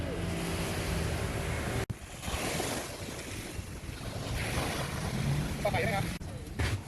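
Open sea seen from a boat heading to Koh Phai off Pattaya, with steady wind buffeting and wave wash rushing past the hull, loud and continuous with brief dropouts.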